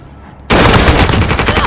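Rapid automatic gunfire in a video game erupts suddenly after a brief quiet moment, then continues as a loud, dense burst of shots.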